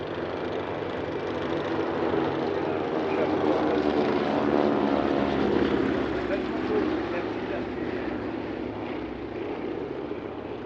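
Classic formation aircraft land at an airshow at Paris-Villaroche, a sustained engine drone swelling and fading over about ten seconds while a voice talks throughout.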